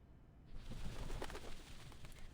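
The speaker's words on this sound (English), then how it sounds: "The doves of the Whitestone House are here." Doves of the Whitestone House in the video game Reverse 1999 coo softly over a dense, steady ambient bed, the sound swelling after a quiet opening and continuing for about two seconds.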